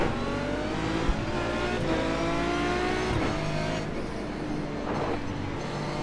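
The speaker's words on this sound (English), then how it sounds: "Just go ahead and sit there, banging it off the limiter." Aston Martin DBR9 V12 race car in the iRacing game at Mosport, the engine bouncing off the rev limiter in a dense, steady buzzing drone with stuttering pitch dips, loud and close, with a few brief knocks and no talk.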